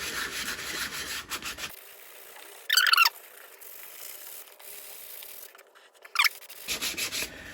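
Freehand hand sanding of cured body filler with 100-grit paper on a Jeep Patriot panel, shaping a curve, with a few quick, close scratchy rubbing strokes separated by quiet pauses.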